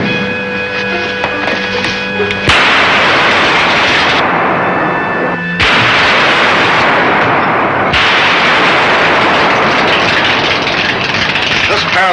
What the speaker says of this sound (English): This paralyzer ray will hold them.